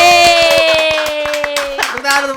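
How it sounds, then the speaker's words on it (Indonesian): A handful of people clap in quick, uneven bursts close by, sharp hand claps layered over a sustained tonal hum, with a voice briefly audible. "Tepuk tangan"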